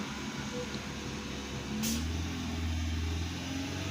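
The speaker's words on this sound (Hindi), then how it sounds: "अभी थोड़ा रेस दी हुई है मैंने ताकि थोड़ा टेम्परेचर हो जाए" A Toyota Corolla petrol engine, fitted with a faulty oxygen sensor, is held at raised revs to warm up, giving a steady close drone with a brief swell in pitch midway.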